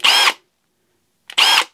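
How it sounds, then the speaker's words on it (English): A Milwaukee M18 brushless hammer drill gives two short, loud bursts of whining high-speed motor noise, each about a third of a second long, with a silent gap between them. "It's a Milwaukee M18 brushless hammer drill."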